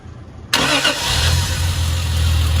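A Triumph TR car engine, freshly rebuilt with new intake gaskets, hot cam and hoses, catches abruptly after silence and settles into a loud, steady idle close by.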